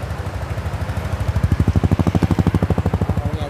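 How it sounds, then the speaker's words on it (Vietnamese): A new motorcycle idles in a shop with a steady, low thumping exhaust that settles into an even rapid putter, close and fairly loud, with no talk. "chỉ nghe tiếng bô nổ đình bịch thôi"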